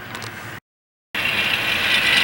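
Model train engine pulling a string of cars out of a layout interchange, a steady broadband motor hum and rumble heard close, cut by a brief gap of silence before resuming a little louder.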